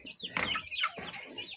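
Native chickens clucking near a pen at feeding time, a few short close clucks and squawks in quick succession, heard without talk.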